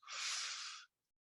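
A single deep inhale during guided breath-work meditation, a close, airy breath that swells and holds for almost a second before stopping abruptly into silence.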